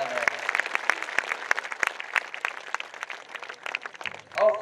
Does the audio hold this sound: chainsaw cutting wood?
no